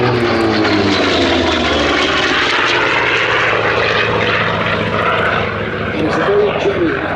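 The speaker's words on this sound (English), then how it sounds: "So the aircraft was designed in 43-44 to actually take over from the Hellcat" A WWII-era propeller fighter designed in 1943–44 to succeed the Hellcat flies its display at Sywell Airshow, a loud, continuous engine drone that swells slightly near the end, with a voice talking over it.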